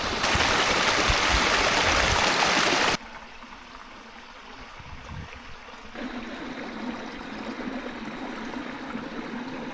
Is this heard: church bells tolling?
no